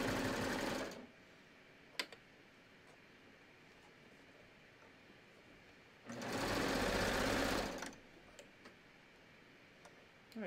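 A sewing machine stitches a T-shirt side seam in two steady runs, one at the start and a longer one in the middle, with brief clicks and quiet pauses between them.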